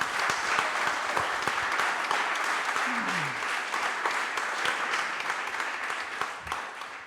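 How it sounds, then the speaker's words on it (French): Audience applause at a startup demo day in Paris, a dense, steady wash of many hands clapping that carries loud and close for about seven seconds before thinning slightly at the end. "Vous pouvez donc applaudir Mathis, Mehdi et François qui va me rejoindre sur scène"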